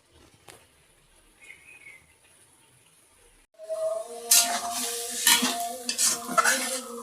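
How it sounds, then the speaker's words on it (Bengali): Bengali chorchori of fish, potato and onion being sautéed in a pan, heard as close, steady sizzling with spoon scraping and clinking against the metal, starting after a few quiet seconds. "তো এই যে আমি এই চচ্চড়িটা কিন্তু কষায়ে দিলাম।"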